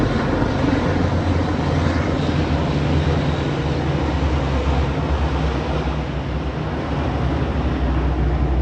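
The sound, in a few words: fighter planes flying over Paris for Bastille Day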